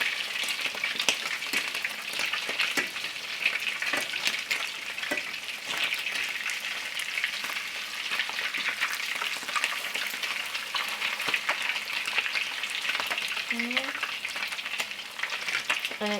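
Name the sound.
salmon cakes frying in a pan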